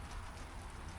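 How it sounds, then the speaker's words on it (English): Heavy rain falls in big drops onto surfaces nearby, a dense, steady patter with no voices. "here we go with rain."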